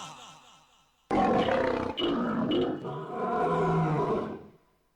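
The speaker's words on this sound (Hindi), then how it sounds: "दरबार शेर गरज रहा है" A large striped lion in the wild gives a loud, close roar, a deep sustained bellow lasting about three and a half seconds with short breaks, then trailing off into silence.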